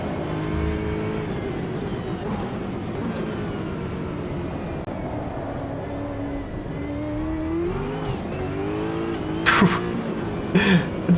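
A racing car engine in the video game Automobilista 2 revs hard and steady to about 7,500 RPM, rising in pitch through the gears, with sharp bursts near the end.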